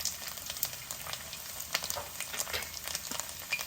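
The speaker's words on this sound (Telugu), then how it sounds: "తర్వాత మన వెల్లుల్లి వెల్లుల్లి ముక్కలు వేసేస్తున్నాం" Chopped garlic sputters in a pan of oil with cumin seeds, a soft, uneven crackle and popping at moderate distance with no voices.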